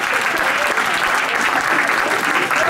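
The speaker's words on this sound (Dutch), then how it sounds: "Eén keer een applaus voor Dingy Jack." Loud, dense applause from a crowd for Dingy Jack, continuous clapping filling the whole brief moment without a break.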